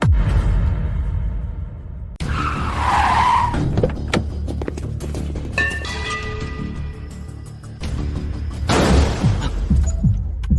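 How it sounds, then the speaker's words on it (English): A sports car skids with tire squeal and engine roar, loud and close, with whooshing passes and a heavy thump near the end, no talking. "Nice sports car"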